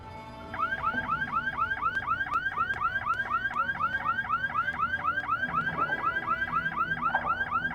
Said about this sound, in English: Touching the exhibits will trigger the alarm.